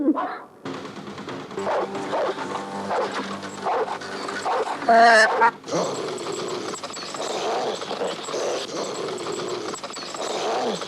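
A dog barks and whimpers in short yips and whines within a busy sitcom scene, mixed with other noises and broken by a brief cut.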